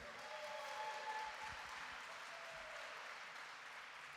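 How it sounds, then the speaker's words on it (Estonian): Faint, steady applause from a church audience at a Baptist summer festival, a continuous wash of clapping heard from a distance with no voices on top. "See on aplausi väärt"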